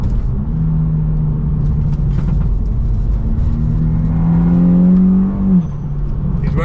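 A VW Scirocco R engine hums steadily while driving, then revs up in a rising pull before easing off, heard from inside the car with no talk.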